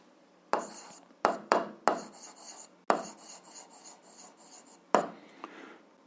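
Pen or chalk strokes while writing out a 7th-grade algebra solution by hand, several sharp scratchy taps and rasping strokes in an uneven rhythm, close and moderately loud with no talk over them.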